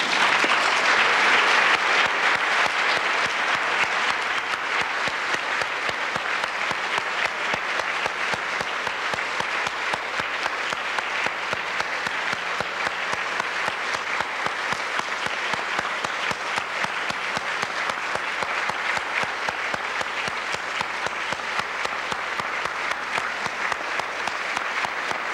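A large audience at an ARPANET 25th anniversary celebration gives the network's pioneers a sustained round of applause, dense steady clapping that fills the room evenly for the whole stretch without voices.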